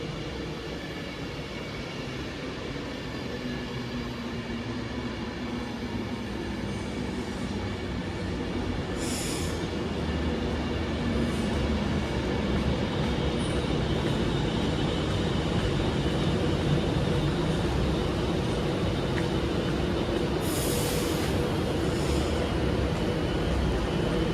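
An Avanti West Coast Class 390 nine-coach electric train departing Stoke-on-Trent station gives a steady broad rolling roar that builds slightly and holds, with faint high squeals now and then and no voices.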